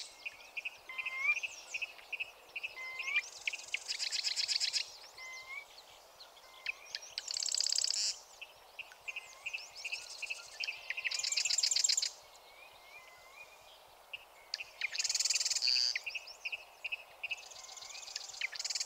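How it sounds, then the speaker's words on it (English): A Virginia rail in a lakeside marsh gives repeated giddick calls from a distance, mixed with other bird chirps and songs in rhythmic bursts over a quiet background, with no talk. "a Virginia rail, another secretive marsh bird, is giving its giddick, giddick, giddick calls"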